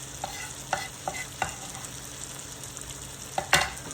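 Tomatoes frying on a griddle as chopped parsley is stirred through, soft sizzling with a few sharp scraping taps of the utensil, close and fairly quiet.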